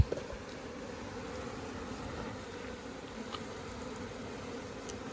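Many honeybees hum around a beehive in a continuous, even drone, close by and steady throughout with no voices.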